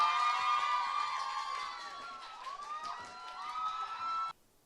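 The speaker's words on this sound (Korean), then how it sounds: "큰 박수 부탁드리겠습니다." An audience at a K-pop showcase cheers and shouts with high, excited screams over a bright crowd roar, loud at first and easing off a little before cutting off abruptly near the end.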